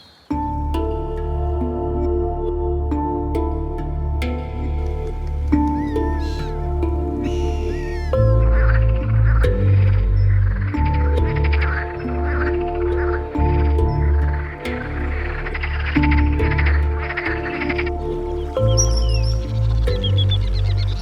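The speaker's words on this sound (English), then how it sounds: "Frogs on the right, a lark in the background, lovely little ambience." Wetland ambience with frogs, a lark in the background, bee-eaters and a passing black-headed gull: a steady dense layer of bird calls and chirps with croaking below, continuous throughout.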